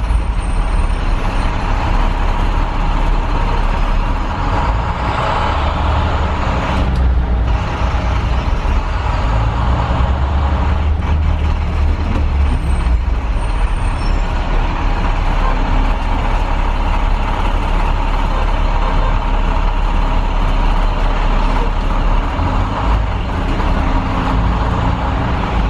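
A 2013 IC CE300 bus cruising along a road, its engine droning loud and close with steady low rumble and road noise throughout, a brief hiss partway through, and no talking.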